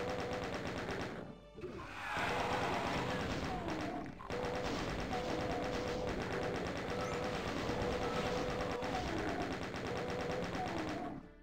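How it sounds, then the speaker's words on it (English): Sustained rapid chaingun fire from the classic Doom shooter, a dense, steady stream of shots running almost unbroken, with brief gaps and heavy thuds mixed in. "I'm gonna get the chain gun out."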